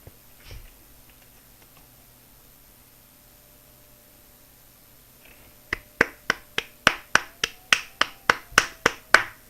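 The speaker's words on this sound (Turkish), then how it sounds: "Evet alkışlıyorum." After near silence, a run of about a dozen sharp hand claps sounds up close in a steady, slightly quickening rhythm, during Minecraft play.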